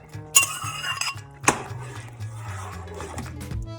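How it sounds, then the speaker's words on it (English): Vegetables tipped back into a pan while cooking lemon chicken rice give a sharp clink and clatter of utensil on cookware, then a second knock, with light scraping and rustling between. No one speaks. "So now I'm going to return the vegetables to the pan"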